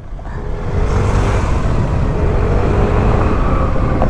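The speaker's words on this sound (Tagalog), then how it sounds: "Ang ingay ng motor ko, no? Ang ingay ng motor ko." Loud motorcycle engine running close by with a dense, rough roar that swells slightly and holds steady, no talk over it.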